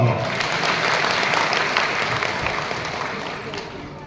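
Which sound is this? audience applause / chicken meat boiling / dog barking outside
audience applause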